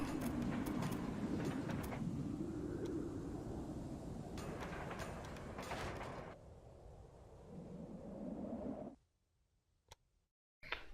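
A train runs in the Railway Empire game, giving a rumbling, clattering rail sound that rises and falls and drops out near the end with only a brief faint blip after.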